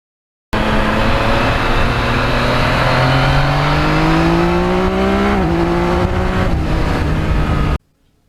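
A Yamaha MT-09 naked motorcycle with its stock catalytic converter exhaust and no muffler revs loudly up close, engine pitch climbing steadily, dipping briefly, then rising again before cutting off abruptly, with no voices.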